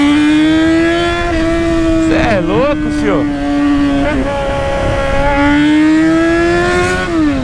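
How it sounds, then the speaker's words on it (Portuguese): Yamaha XJ motorcycle engine idling and revving with a steady loud drone, a couple of sharp throttle blips in the middle, while someone talks excitedly over it. "como que ronca bonito essa moto"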